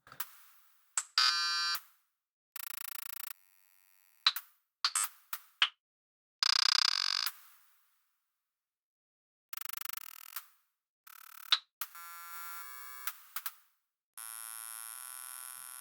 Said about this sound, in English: To add some sort of glitchiness, stutteriness to this snare.